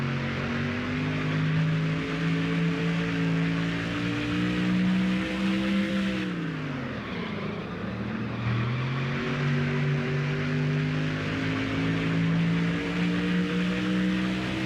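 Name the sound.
race car engine during qualifying lap in NASCAR Thunder 04 video game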